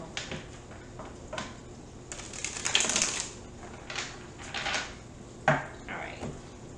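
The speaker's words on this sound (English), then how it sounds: "One more shuffle." Quick riffling and soft slapping of tarot cards being shuffled, a few bursts of papery flutter and taps close by, fairly quiet.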